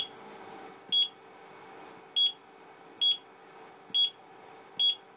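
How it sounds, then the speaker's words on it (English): An Ender 5 S1 3D printer's touchscreen gives sharp, loud electronic beeps each time a button is pressed, five short tones spaced about a second apart over a faint steady hum, with no voices. "every single time you press anything on the touchscreen, it beeps at you to let you know you've pressed a button"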